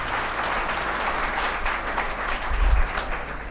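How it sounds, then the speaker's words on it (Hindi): An audience at a motivational youth seminar in Begusarai claps steadily, a dense sustained roar of many hands from start to finish, swelling slightly near the end with a low thump underneath. "तो जोरदार ताली से"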